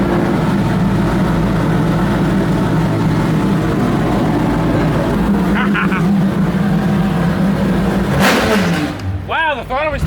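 VW drift Passat engine idling with a steady low drone, then sharp throttle blips near the end produce quick rising-and-falling revs, loud and close.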